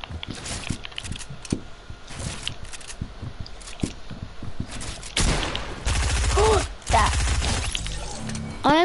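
Video game gunfire cracks out in scattered shots early, then heavier louder bursts and impacts toward the end, with a voice talking over parts of it.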